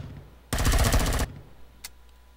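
A rapid automatic gun bursts for under a second in Empyrion while attacking towers, loud and close, followed by a faint single click or shot and quiet.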